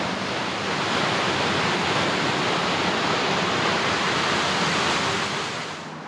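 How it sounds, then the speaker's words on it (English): A big waterfall in Girrakool National Park on the Central Coast of New South Wales, Australia, gives off a steady, unbroken rushing roar that holds at one even level with no voices over it. "that's actually a big waterfall over there"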